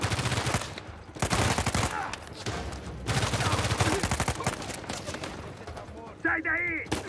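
Rapid bursts of automatic gunfire from an Uncharted 4 shootout during a prison escape, dense and loud, with sharp repeated shots clustered in volleys and brief gaps, a voice calling out near the end.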